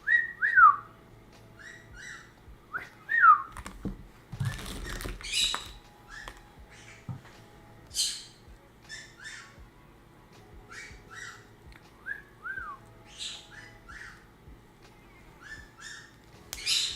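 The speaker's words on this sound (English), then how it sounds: "Gary does the whistle, not Beelzebub." A pet bird gives repeated short whistles and chirps across the whole stretch, with occasional squawks and a burst of rustling patter. It sounds fairly close, with no talking.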